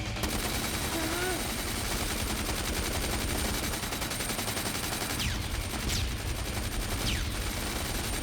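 Bursts of rapid automatic gunfire and scattered shots ring out steadily in a low-budget Filipino action movie shootout, loud and dense throughout, layered under music and effects.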